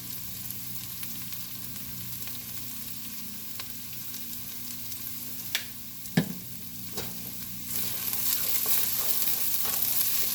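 Mexican rice browning in a frying pan gives a soft, steady sizzle, with a few sharp clicks and scrapes of stirring. The frying grows louder and brighter toward the end.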